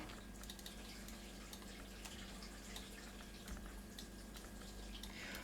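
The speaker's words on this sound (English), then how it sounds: "the washing machine is pumping water into the system" A washing machine pumps water through household pipes, a faint continuous watery rush and low hum with scattered small drips and clicks, steady in the background and alone.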